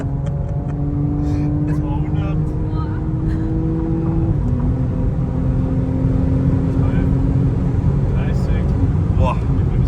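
Audi RS5 accelerating hard in a full-throttle pull, an engine drone rising steadily in pitch with a brief dip at a gear change, heard from inside the car as people talk.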